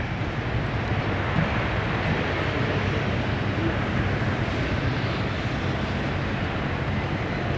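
An airliner lands in strong gusty crosswind on runway 16R at Narita Airport. A loud, continuous roar of wind and jet engine rumble goes on throughout, with no talk.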